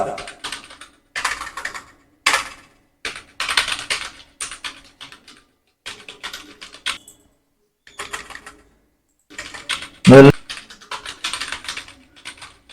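Computer keyboard typing at close range, with bursts of rapid keystrokes separated by short pauses and one louder clack near the end, heard alone with no talking.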